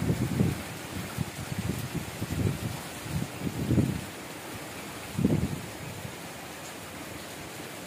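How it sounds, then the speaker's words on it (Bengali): Heavy rain falls at home with wind, a steady hiss broken by low rumbling gusts that swell and fade every second or so. "এখন একদম জোরে শুরু হয়ে গেছে, সাথে হাওয়াও দিচ্ছে।"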